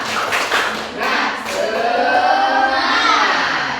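A roomful of children claps and chants together, a busy, noisy burst of hand claps and voices filling the space.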